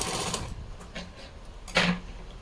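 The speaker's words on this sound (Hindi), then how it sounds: "आधी इंच की नीचे से हमें सिलाई मार लेंगे मशीन से इस तरह" An electric sewing machine stitching fabric for a small deity outfit, running in short bursts with pauses between them. A louder whirring run comes near the end, and no one speaks.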